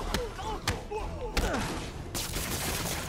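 Rapid gunfire bursts in a Marvel's Spider-Man boss fight against Shocker, with sharp repeated shots and thuds cutting through game music and effects, a voice talking over the action.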